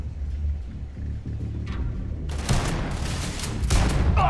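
Shotgun blasts in Starfield, a few loud booming shots in quick succession after a low rumbling stretch, each with a sharp crack and a short roaring tail.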